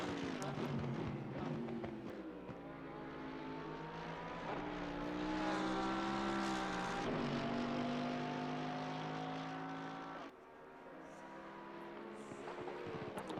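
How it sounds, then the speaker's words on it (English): GT race cars, including a Mercedes, lap the Bathurst circuit in the Assetto Corsa Competizione racing game. Quiet engine notes howl and climb in pitch, then drop sharply at several gear shifts, blending into a continuous distant whine. "The cars do sound very nice, like even the onboard cameras."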